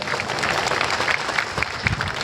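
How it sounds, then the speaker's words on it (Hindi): A crowd applauding at a Home Guard foundation day event, dense steady clapping that holds at a loud level without a break. "जरा तालियां बजाकर उस टीम का भी स्वागत करें"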